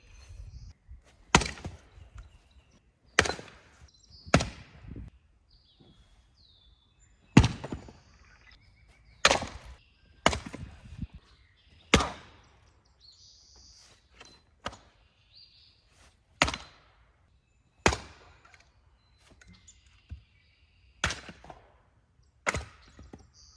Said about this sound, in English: The shorter ones I'm having a much easier time splitting.